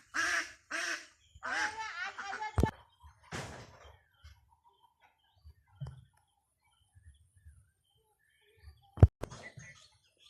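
Several nasal duck quacks come in a quick burst at the start, then the sound thins to sparse faint noises with a couple of sharp knocks.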